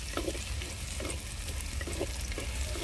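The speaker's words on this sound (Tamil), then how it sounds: "நல்லா வெங்காயம் இஞ்சி பூண்டுலாம் நல்லா வதங்கிருச்சு" Split chilies sautéing in a pan with onion, ginger and garlic, heard as a steady low sizzle with a few soft scrapes of stirring, close and quiet, nobody speaking.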